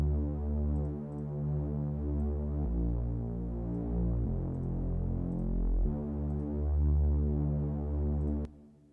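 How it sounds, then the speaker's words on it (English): A reese bass synth line for a track drones low and thick, with steady throbbing harmonics that shift pitch a few times before cutting off near the end. "the reese bass sounds like this"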